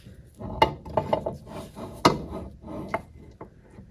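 A Mercruiser propeller shaft and gear being shifted across the drive case to lock onto the inner shift crank, giving a series of close, fairly loud metallic clunks and ratchety clicks with no talking.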